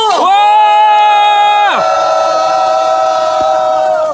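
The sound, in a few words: crowd cheering and applauding at election rally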